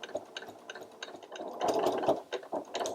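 A sewing machine reverse stitching through fabric for a book cover, a close, rhythmic mechanical ticking and clatter that speeds up into a denser whir midway.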